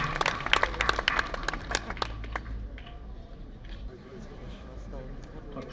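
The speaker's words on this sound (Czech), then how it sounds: "Tak přátelé, tleskejte" An audience claps at an outdoor trumpeters' competition in Pelhřimov, with dense applause for about three seconds that thins and fades out under light background murmur.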